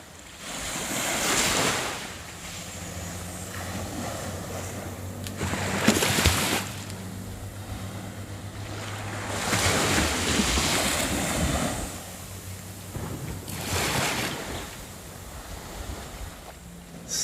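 Ocean waves roll onto a beach in repeated surges, each crash rising and receding about every four seconds, with steady wind noise on the microphone between them.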